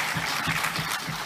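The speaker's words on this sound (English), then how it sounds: "Give her again a special round of applause" An award ceremony audience applauds for a teen honoree, a brief dense patter of clapping from many hands, steady and moderately loud throughout.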